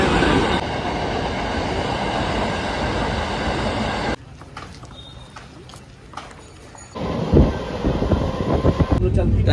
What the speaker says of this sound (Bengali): তো এখন ট্রেনে আছি, আসানসোল থেকে আমাদের ট্রেন ছিল, দিল্লির ট্রেন আসানসোল থেকে।